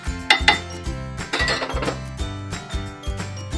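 Spiced buttermilk with cumin, salt, coriander, mint and asafoetida mixed in a pot, with close, repeated metallic clinks and scrapes of a spoon against the vessel in uneven bursts.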